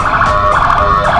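An ambulance siren wails loud and close on a road, a steady high tone that fills the whole moment with no talk.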